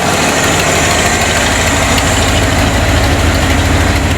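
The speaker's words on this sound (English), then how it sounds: "I've got an exhaust leak on this side here." A Ford F250 truck engine idles steadily and loudly up close, its exhaust leak adding a raspy, ticking pulse to the low rumble, with no voices.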